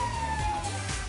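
A loud, wailing emergency siren sounds close by with a rising and falling pitch, holding steady over a low rumble.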